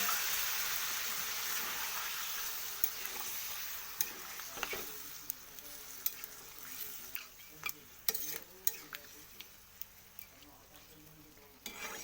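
Chicken frying in a pan for chicken kanti, with a faint, steady sizzle and hiss and scattered sharp clicks and scrapes of stirring, the sizzle dying down in the second half as water goes in.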